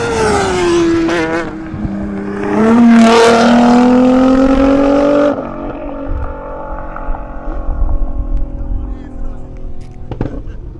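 At a drag race, cars including a Nissan GT-R and BMW M5, M4 and X5 plus a Kawasaki bike roar past loudly, engines rising in pitch through the gears, then fading under crowd chatter.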